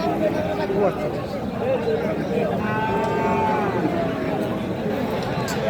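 Cattle moo at a busy livestock market, with long drawn-out calls rising over a steady crowd hubbub and nearby voices talking throughout.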